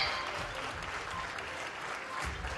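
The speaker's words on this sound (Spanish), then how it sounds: "pero de fondo podíamos escuchar también los aplausos." Applause outside the Chilean government palace during an official ceremony, a steady patter of many hands clapping at a distance, continuous and even throughout, swelling slightly at the end.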